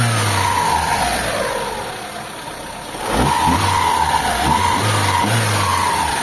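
Mitsubishi Lancer engine with an overflowing carburetor running rough, heard up close. The idle dips and lurches unevenly, then steadies into a louder, throbbing run.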